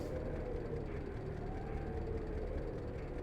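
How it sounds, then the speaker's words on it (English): A train ride in Hitman: Contracts gives a steady, loud, low rumble of rolling rail travel. The even whooshing drone holds for the whole stretch with no voices. "you get to ride this lovely train."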